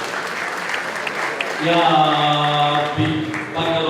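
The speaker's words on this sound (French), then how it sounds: "Applaudissez-la encore, s'il vous plaît." Audience at a charity gala breaks into warm applause, a dense wash of clapping that swells and holds, with a voice speaking briefly at the start and a brief tone or music-like hum overlaid.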